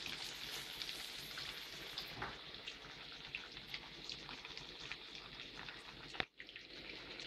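Breaded veal cutlets fry in hot oil with a constant dense crackling sizzle, fairly close, and a brief clunk near the end; no voices.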